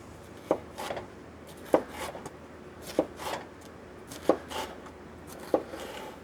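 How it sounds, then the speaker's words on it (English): A knife chops peppers into small square pieces on a board, with five evenly spaced, crisp thuds about a second apart and faint board scrapes between them. "I'm just going to chop them into strips and then chop them into little squares, little chopped pieces."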